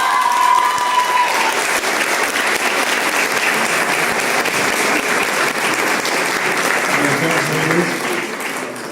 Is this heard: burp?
no